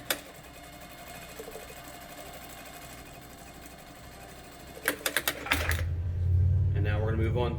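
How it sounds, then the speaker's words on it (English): A sewing machine stitches a curved seam on a fabric face mask with a steady, even whir, followed by a short burst of faster stitching near the end, then a person speaks. "We're going to sew this curve first."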